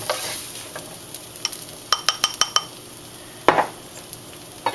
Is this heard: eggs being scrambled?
yes